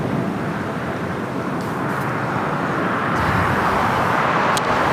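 Qantas A380 Super, in from Sydney, under tow to the hangar at LAX, a broad steady roar of engines and airport rumble that swells slightly midway, heard from a distance.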